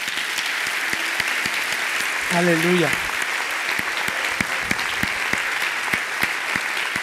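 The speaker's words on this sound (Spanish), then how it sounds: "un aplauso al Señor" A church congregation applauds during a Spanish-language sermon, a steady, moderate patter of clapping that continues throughout while a voice briefly calls out over it.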